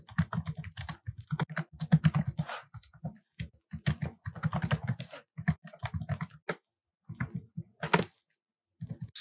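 Rapid typing on a computer keyboard while Java code is written, with bursts of clacking keystrokes and short pauses between them, close and clear with no talking.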